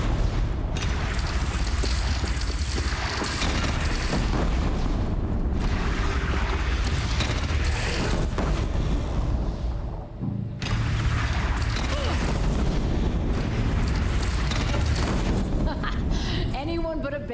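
Heavy cannon fire booms through a Horizon Zero Dawn battle, deep blasts repeating over a dense, loud wall of combat noise with voices talking throughout.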